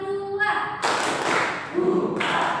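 Hand clapping during a classroom clapping routine: a few sharp, close claps in quick bursts, each followed by a group vocal call, with voices chanting alongside.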